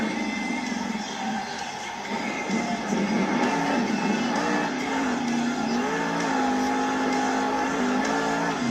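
Monster Jam truck Avenger's engine revs loud and steady in an Indianapolis stadium, a sustained growling drone with rising and falling pitch sweeps over constant crowd and arena noise.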